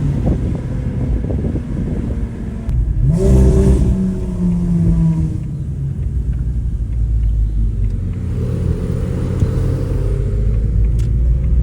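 A Porsche 911R and a Carrera GT drive past, heard as a loud, continuous engine rumble under heavy wind buffeting, with a rising, revving pass in the middle and another surge near the end.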